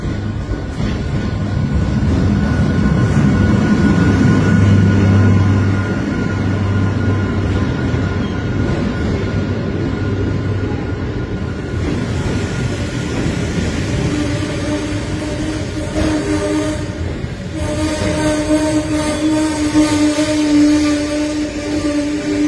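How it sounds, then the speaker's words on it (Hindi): A train in Iran pulls into a station platform with a loud, steady rumble and rattle of rail cars that grows and then shifts in tone as it slows. Nobody speaks. "हमारी ट्रेन आएगी इस साइड पर और ये आ रही है"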